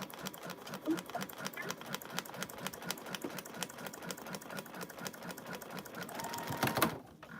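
A sewing machine runs steadily while stitching a foundation paper pieced hummingbird quilt block, with a fast, even mechanical clatter that slows and stops near the end.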